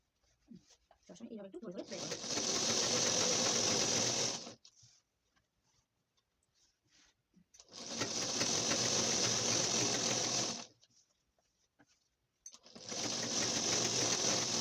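A sewing machine stitching a fall onto a saree runs in three steady bursts of a few seconds each, a close, even whirring hum separated by short pauses, with a voice briefly heard at the start.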